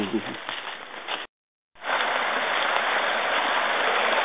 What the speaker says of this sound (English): that is a pretty nice stream